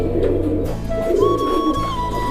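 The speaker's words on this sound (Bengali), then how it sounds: "খুব সুন্দর কবুতর রয়েছে" Teddy pigeons coo softly in low, throaty bursts in a loft, with a thin high whistling tone drifting over them.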